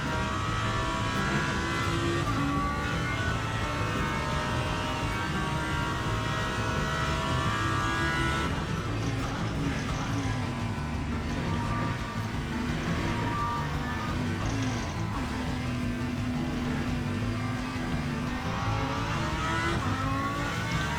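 Race car engine in the Le Mans Ultimate racing game at Circuit de la Sarthe, droning and revving continuously and loudly for the whole stretch, with gear shifts and pitch swings, no voice over it.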